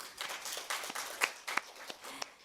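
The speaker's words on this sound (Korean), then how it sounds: "무대 위에 계신 좌장, 발표자 그리고 토론자분들께 큰 박수 부탁드립니다" An audience applauds panel speakers at a Korean tourism forum in Jeju with soft, scattered clapping that goes on steadily for a couple of seconds, heard from a distance with a few sharper claps standing out.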